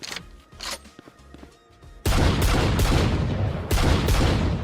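A gun in the tactical shooter Valorant, fired in short taps with brief pauses: a few faint clicks, then a loud run of close shots that keeps swelling with each new burst.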